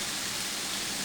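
Chinese takeout-style stir-fry left to brown in a hot pan, giving a steady, close sizzle that stays even and unbroken with no talk.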